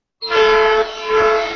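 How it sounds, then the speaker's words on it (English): A train horn sound effect blasts close and loud in one sustained tonal honk lasting about a second and a half, dipping slightly midway before swelling again, with no speech. "How about the train horn?"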